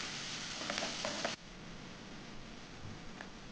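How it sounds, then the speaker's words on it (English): Chopped onion hits hot oil in a pan for paneer bhurji, a loud hiss of sizzling that drops suddenly to a quieter, steady fry. "After they pop, add onion."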